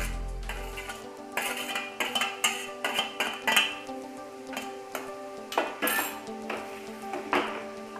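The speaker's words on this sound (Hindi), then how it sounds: "अब मैं इसमें प्याज और शिमला मिर्च डालूंगी" Sautéed onions and capsicum go into a kadai pan of fried paneer, bringing a run of metallic clinks and scrapes of a spoon against the pan at an uneven rhythm, with no voices.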